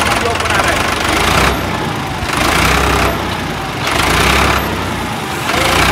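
A tractor stuck in mud at an ashram runs steadily and loudly close by while its back is being unloaded, the engine drone swelling and easing in regular surges over several seconds.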